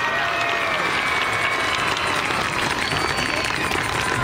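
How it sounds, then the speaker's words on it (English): An audience applauds the 2013 homecoming court and escorts with dense, continuous clapping and crowd noise that stays steady and loud throughout, with voices mixed in. "How about a big round of applause for them?"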